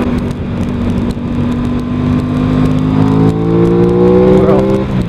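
An Aprilia RS 660 or Ducati Supersport S motorcycle engine drones loudly and steadily up close, pitch sliding as it shifts down a gear through a tight corner, with a rider's voice faintly underneath.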